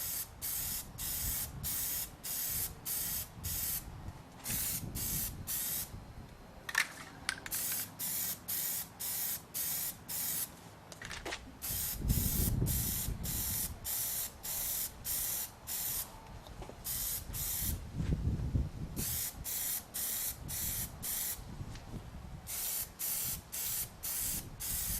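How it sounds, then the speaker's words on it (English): Spray paint hisses in rapid repeated short bursts over a keyed scratch on a car body panel, close and crisp, with brief pauses and some quieter handling noises between passes. "we'll go ahead and spray that area and see how it turns out"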